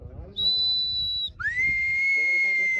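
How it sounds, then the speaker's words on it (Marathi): Two long, loud whistle blasts at an outdoor cricket match, the second sliding up into a steady piercing tone, with voices and crowd chatter underneath. "शिट्टी वाजव की एक पाहिजे"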